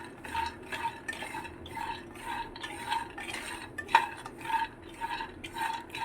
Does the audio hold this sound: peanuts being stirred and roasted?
yes